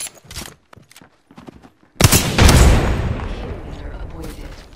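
Gunfire in the battle-royale shooter Apex Legends: a few faint shots and footsteps, then at two seconds a loud close burst of automatic fire with booming reports that rings on and decays for the rest of the stretch.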